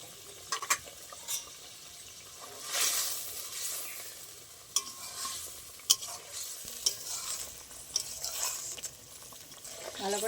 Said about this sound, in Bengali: ভালো করে মশলাটা বেগুনে যাওয়া পর্যন্ত আমি একটু ফুটিয়ে নেব